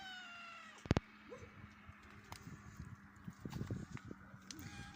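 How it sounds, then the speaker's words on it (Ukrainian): A free-roaming village cat meows close by in a drawn-out call, followed by quieter rustles and faint movement in an outdoor rural setting. "Він у нас вільний котик, любить побродити по селу."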